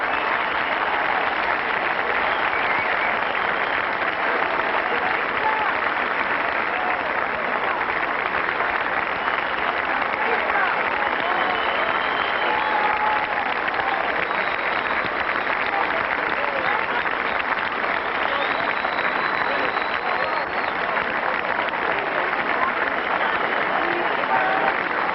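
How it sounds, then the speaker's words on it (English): A sellout crowd applauds warmly at the U.S. Open men's championship final in tennis, a loud, steady roar of clapping that lasts throughout with scattered cheers. "There he is, Pete Sampras, a very appreciative crowd, a sellout as always for the men's championship final, and acknowledging with their warm applause"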